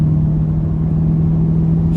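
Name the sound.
Ford F250 diesel engine accelerating, intake whistle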